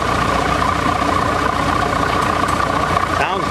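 An old tractor without power steering, on big tires, idles steadily with a smooth, constant rumble at an outdoor tractor show, close by and loud throughout.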